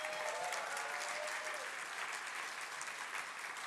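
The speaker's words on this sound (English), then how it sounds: "Give them a big round of applause." A large crowd at an evening equality awards gala applauds California state legislators, with loud, dense, sustained clapping and faint cheers, steady throughout.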